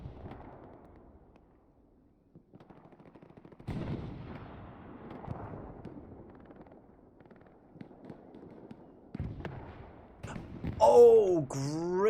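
Machine gun fire in the Hell Let Loose war game comes as scattered distant bursts and booms amid battle noise, rising louder near the end, with commentary voices heard intermittently.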